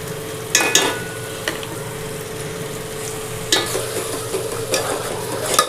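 Mutton masala fries in oil in a pan while a spoon stirs it, giving a continuous soft sizzle broken by a few sharp scraping clinks, close and fairly loud.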